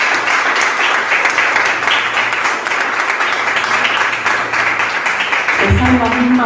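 A church congregation breaks into loud, sustained applause, dense clapping from many hands filling the space while a voice speaks over it and a low tone rises near the end.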